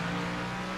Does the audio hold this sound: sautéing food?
no